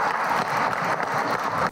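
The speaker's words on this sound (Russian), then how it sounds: "Эту новость депутаты встретили аплодисментами." Deputies at a Saratov city council meeting applaud, a dense, even patter of many hands that runs steadily and then stops abruptly.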